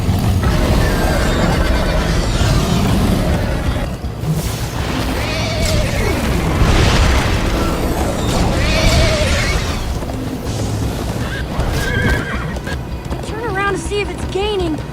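In Minecraft: Story Mode, a horse whinnies and hooves clatter in a busy game soundscape, with voices and loud effects throughout.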